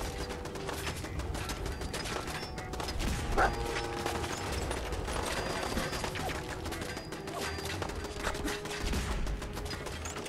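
Turret gunfire during a Fallout 4 firefight, dense rapid bursts and mechanical clatter in a continuous layered game mix, fairly faint.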